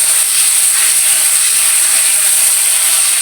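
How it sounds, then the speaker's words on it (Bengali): Koi fish frying in hot oil, giving a loud, dense, continuous hiss and sizzle right up close for a few seconds, with no voices. "এখন আমি কই মাছটা ভেজে নিই"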